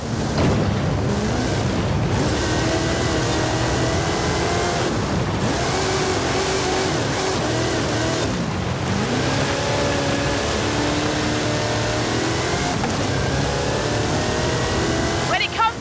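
A Hot Wheels monster truck with a 540 cubic inch Chevrolet engine and 66-inch Terra tyres roars in the Forza Horizon 5 video game, a loud, steady engine drone running throughout beneath a narrator's speech.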